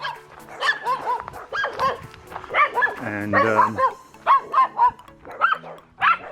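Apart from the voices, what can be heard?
dogs barking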